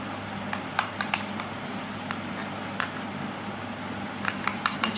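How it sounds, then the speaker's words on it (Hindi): A spoon clinks and scrapes against a bowl while mixing fresh aloe vera gel into a homemade hair protein mask, with scattered sharp taps at an uneven pace over a quiet background. "अच्छे से मिक्स करेंगे।"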